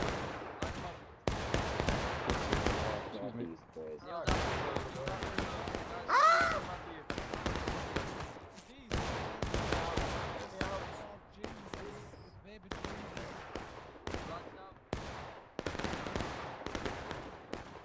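A line of muskets fires independently in War of Rights on Bolivar Heights, dense irregular shots crackling in quick succession, some near and sharp, others distant, with voices talking at times.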